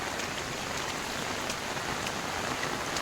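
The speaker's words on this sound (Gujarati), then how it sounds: "ચાલુ વરસાદ દોસ્તો," Steady heavy rain at Uparkot Fort in Junagadh, a dense, even hiss of drops pattering on surfaces, close and continuous, with no voices.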